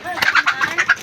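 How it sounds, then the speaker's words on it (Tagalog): A chicken clucks in quick, close bursts, several short squawky notes in a row over a brief moment. "Ay, manok."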